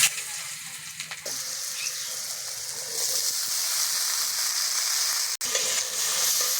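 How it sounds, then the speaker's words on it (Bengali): Potatoes frying in hot oil in a kadai for a Bengali cabbage-filled steamed pitha, a steady close sizzle and crackle running unbroken throughout, with a brief stir midway. "আলুগুলো ভেজে নেব।"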